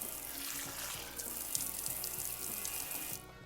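Hot tap water runs over frozen shrimp in a kitchen sink, a steady close splashing hiss that stops abruptly near the end.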